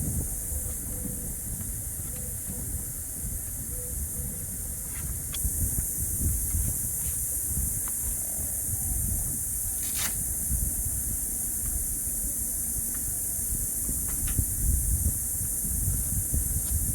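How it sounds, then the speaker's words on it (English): Steady wind buffeting a microphone outdoors beside a 2021 Can-Am X3, a low rumbling roar with faint hiss throughout and a few small clicks, moderately quiet. "I do apologize for the wind if you guys hear any of the wind"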